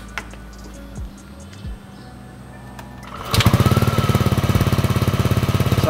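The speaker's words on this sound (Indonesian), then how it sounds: "Yuk kita dengerin suara knalpotnya." A motor scooter fitted with an aftermarket exhaust starts after a few seconds of quiet background and then idles close by, with a loud, steady pulsing putter that runs to the end.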